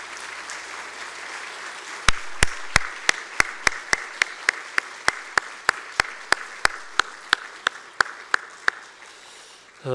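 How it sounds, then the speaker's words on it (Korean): A church congregation clapping together in a steady, even rhythm of crisp, sharply timed claps, about three per second, over a faint room hum, with no talking. "여러분 크게 박수로 격려해 주시면 고맙겠습니다"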